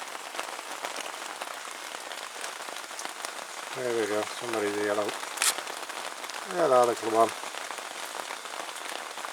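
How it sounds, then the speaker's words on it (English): Rain patters steadily on an outdoor log pile, a constant fine hiss of drops, with a person talking softly over it twice. "These raindrops must feel absolutely huge on those tiny little heads."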